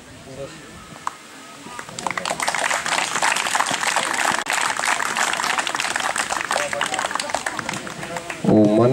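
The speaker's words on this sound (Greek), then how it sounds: "Δυνατό χειροκρότημα, ρε." Applause from an audience at a youth academy closing ceremony as medals are handed out, a steady dense clapping that swells after a quiet start and carries on for several seconds, with a louder burst near the end.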